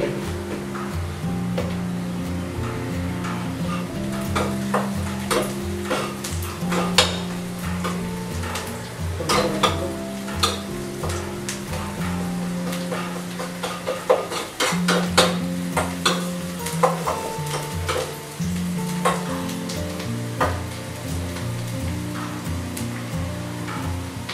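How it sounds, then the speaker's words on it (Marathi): Onion fries in oil with turmeric in a pan, a continuous soft sizzle under frequent scraping and clinking of a stirring spoon against the pan, close and moderate. "मस्त असा कांदा फ्राय होतोय तेलामध्ये."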